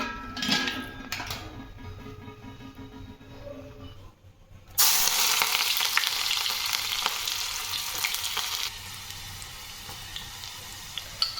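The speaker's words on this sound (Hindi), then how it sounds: "ऑयल हमारा हो ही रहा है, बस जैसे हमारा ऑयल होता है वैसे हम इसमें प्याज डाल देंगे" Sliced onions dropped into hot oil in a home kitchen pan set up an instant loud, steady sizzle and hiss. The frying holds up close for several seconds after a quieter stretch of background noise, with no talking.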